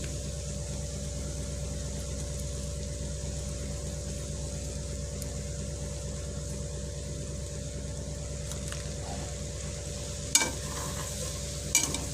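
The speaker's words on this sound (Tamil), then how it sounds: "அந்த மசாலாக்கு ஏற்ற அளவுக்கு நம்ம ப்ரெட்டு போட்டுக்கணும் போட்டு நல்லா பெரட்டிட்டு" Bread pieces are tossed and stirred into a tomato masala in a pan. Steady, low frying noise mixes with soft, repeated stirring scrapes, and a couple of sharper knocks come near the end.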